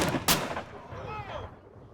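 Cannon and musket fire during a Revolutionary War battle reenactment: a sharp loud blast near the start followed by echoing rumble and distant crackling shots.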